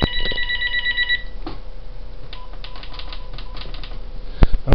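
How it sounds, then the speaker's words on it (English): A telephone rings briefly in an indoor room, a short electronic trill that soon stops. Scattered clicks and a few sharp taps follow, sounding like a keyboard and mouse. "telephone's ringing. I will be ignoring it."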